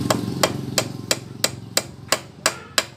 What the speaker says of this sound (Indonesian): Lalu kita pukul dengan palu kecil ya.